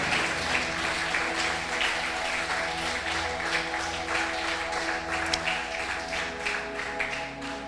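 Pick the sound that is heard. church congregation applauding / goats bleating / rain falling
church congregation applauding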